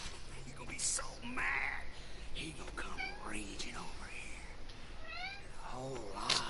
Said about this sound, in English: What do you want, cat? There's already food in your plate.